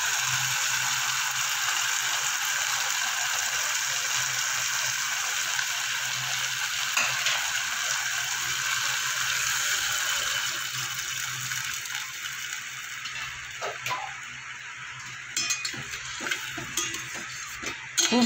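Egg masala for a dhaba-style dish sizzles steadily in hot oil after water is poured in, a continuous close frying hiss with occasional stirring scrapes, growing more uneven toward the end.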